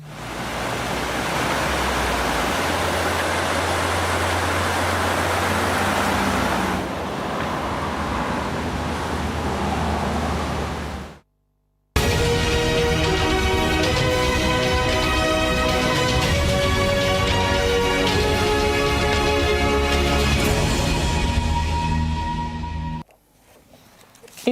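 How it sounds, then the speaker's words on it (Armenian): The flooded Debed river in Armenia's Lori region rushes with a constant, heavy roar of churning water. It is cut by a brief silence, then resumes more harshly before ending abruptly. "Լոռու մարզում Դեպետ գետն արդեն վարարել է եւ ուղարկել տեսանյութ"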